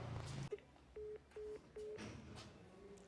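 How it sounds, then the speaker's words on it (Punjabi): A phone call being placed: a brief tone, then three evenly spaced dialing beeps, fairly quiet against a low background. "ਜੋਬਨ ਨੂੰ ਫੋਨ ਲਾਈ ਲੈਣੀ ਆ"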